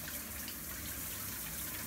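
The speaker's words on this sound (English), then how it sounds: "first I'm gonna wet my hair with warm water" Warm shower water running while hair is wetted, a steady close hiss and gush of spray that stays even and full throughout, with no voices.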